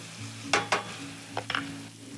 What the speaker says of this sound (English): So now you just want to wilt down the spinach a little bit, add a little bit more butter